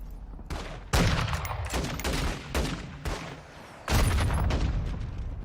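Gunfire from a 5.56 weapon in the video game MW2 (Modern Warfare 2), with loud bursts and sustained volleys, a sharp onset near the start, a brief lull, then another heavy volley.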